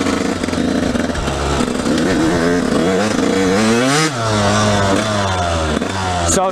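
A dirt bike engine revs loudly and close while being ridden, its pitch climbing, dropping sharply at a gear shift, then rising again in steady throttle sweeps, with no voices.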